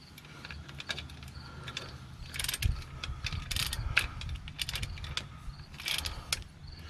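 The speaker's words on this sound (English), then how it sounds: "I'm using an extension with a swivel socket this time" Ratcheting socket wrench on an extension with a swivel socket backing out car starter bolts, a near clicking ratchet in short bursts with light metallic clinks and tool handling.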